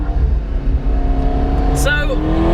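A McLaren 650S sports car engine droning loudly with a rising rev, heard from inside the cabin with a steady low rumble, while a person talks over it.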